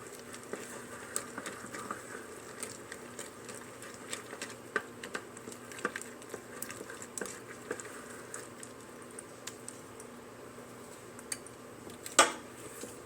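Cranberry muffin batter being stirred in a bowl makes quiet, soft wet squishing and light clinking from the utensil against the bowl, irregular and faint, with one sharper knock near the end.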